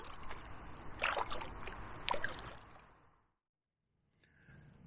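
A canoe paddle dips and pulls through the water of the River Stour in several splashy strokes, then the boat glides quietly before a faint trickle returns; no talking.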